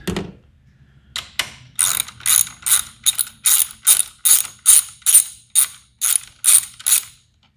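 A hand ratchet undoes bolts during a bypass valve install on a 2008 Subaru Outback XT, close and loud, with two separate clicks followed by a long run of rapid, evenly spaced ratcheting bursts and no talking.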